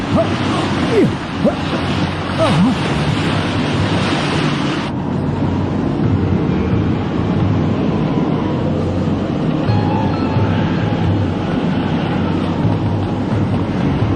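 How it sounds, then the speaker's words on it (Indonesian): Whirlpool and waterspout merging at sea in the Hunter x Hunter anime, a loud, continuous roar of churning water and wind with crashing waves throughout, slightly brighter in the first few seconds. "Angin puyuh dan pusaran air bergabung menjadi satu."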